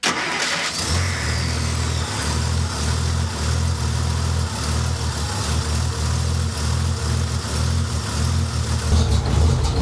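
A classic Jeep engine on a newly swapped 12V system runs steadily and loudly close by with the choke on, a constant rumbling idle with no talking.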